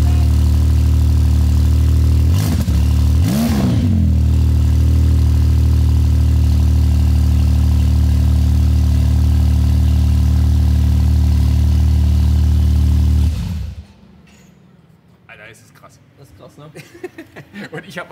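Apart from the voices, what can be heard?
900 hp Porsche 992 Turbo S engine started and idling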